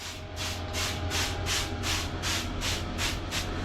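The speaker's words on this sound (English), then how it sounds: "I just kept spraying and spraying and spraying" A spray bottle of Spanish ASEVI cleaning product is squeezed over and over, giving about nine even, rhythmic hissing spritzes in a steady quick beat, close up and alone over a faint low background hum.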